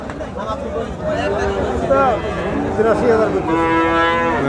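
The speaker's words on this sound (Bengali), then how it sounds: "এগুলো কি জাতের গরু নিয়ে আসছেন শাইওয়াল" Sahiwal cattle at a busy cattle market give several loud, drawn-out moos close by, with people talking and bargaining underneath.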